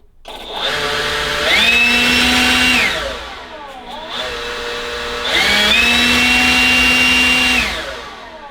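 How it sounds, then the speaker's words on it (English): DeWalt cordless air blower powered by a Milwaukee battery through a converter runs in two bursts, each whining up to a loud steady roar, holding briefly, then spinning down, alone and close. "if we were to plug it into the air blower here"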